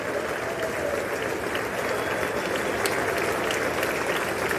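Warm applause in the US Congress during a foreign leader's address, a steady, moderately distant roar of many hands clapping that holds evenly throughout.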